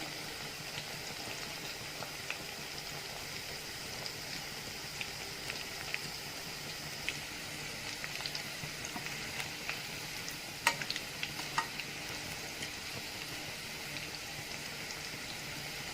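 Chicken pakoda pieces sizzle and crackle steadily in hot oil while being turned and stirred, a continuous dense fry with scattered sharper pops throughout, fairly close and with no voices.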